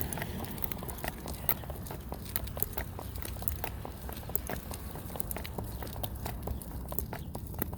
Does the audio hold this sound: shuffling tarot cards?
no